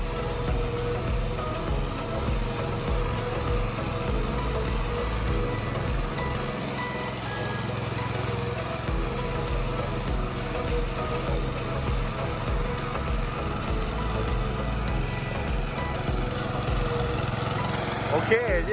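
Walk-behind MR-1 lawn mower with its engine revved gently, a steady droning motor running continuously and close by, with faint talk beneath it.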